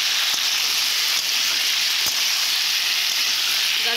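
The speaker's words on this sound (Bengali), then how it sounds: "এইভাবে নেড়ে নেব।" Aloo kochu curry with carrot fries in a pan while being stirred, a loud, steady sizzle and hiss throughout, broken by a few soft scraping strokes of the spoon.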